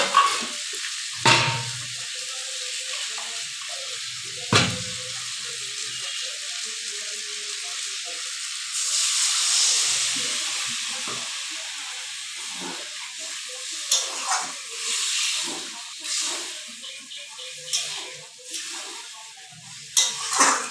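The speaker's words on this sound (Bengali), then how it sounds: "আজকে খুব মাছের তেল পড়েছে জানো বন্ধুরা।" Fish fries in hot oil, a soft continuous sizzle and hiss with occasional sharp pops and a louder steamy burst partway through, plus faint clinks from the pan.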